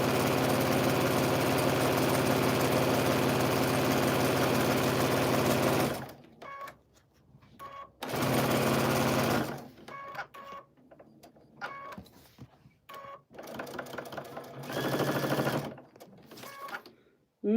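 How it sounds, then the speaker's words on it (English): A sewing machine stitches a dress in a long loud continuous run, then in shorter bursts separated by pauses, with a voice speaking in the quiet gaps. "Sewing."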